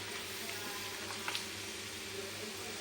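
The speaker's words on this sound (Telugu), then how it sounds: "మనకి ఈ విధంగా ఆయిల్లో ఫ్రై అవుతూ ఉంటాయి" Prawns frying in hot oil for an Andhra-style prawn pickle, giving a steady, soft, continuous sizzle with faint crackles and no talking.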